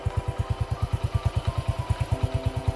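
Motorcycle engine thumping in a fast, even pulse as it is ridden along a narrow village lane, close and steady with a slight shift in tone near the end, no talking.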